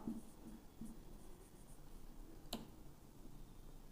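A pen scratches across paper during a Class 10 maths lesson, with faint, quiet strokes and a couple of sharper taps, close but low in level.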